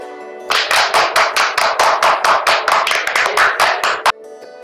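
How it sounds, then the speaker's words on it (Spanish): A single pair of hands claps about twenty times in a quick, even rhythm, crisp and close, with one last sharper clap before silence. "Número 1. Los aplausos."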